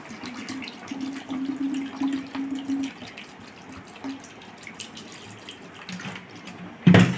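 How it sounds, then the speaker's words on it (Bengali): Water poured into a pan of turkey chicken curry gives a steady, moderately loud stream for about three seconds, then eases into a softer trickle, with a brief louder splash or clatter near the end. "এবার আমি জল দিয়ে দেবো।"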